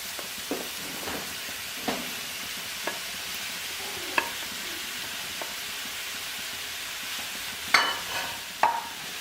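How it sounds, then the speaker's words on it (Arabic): Onion and chicken fry in oil in a pan, a soft continuous sizzle broken by occasional stirring clinks and scrapes of a utensil, close and moderately quiet with no talk. "غندير فيها شويه ديال الزيت، ندير فيها البصله، غادي نزيد عليها الدجاج"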